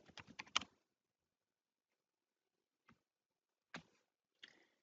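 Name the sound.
typing code on a computer keyboard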